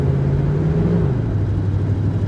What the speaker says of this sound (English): my truck's doing the very wonky things.